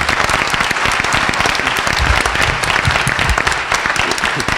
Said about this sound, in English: I love it when people clap for bad news, right?